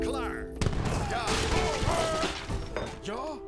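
Rapid booming cannon blasts and crashing impacts against sturdy towers in an Age of Empires 3 battle, loud and dense, with voices shouting underneath.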